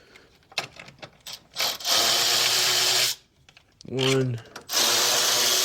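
An electric 3/8-inch ratchet with a 1/4-inch adapter and 10 mm socket loosens a bolt on a Volkswagen GTI engine. Two loud, close whirring bursts of a second or more each are separated by a brief pause, with a short spoken word in between.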